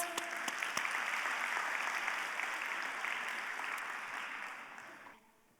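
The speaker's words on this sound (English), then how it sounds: "Can we give a hand of applause?" Applause at a women's leadership summit in Africa fills the clip, a broad steady roar of many hands clapping at a fairly distant, even level that fades out near the end.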